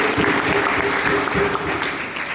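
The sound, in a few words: congregation applause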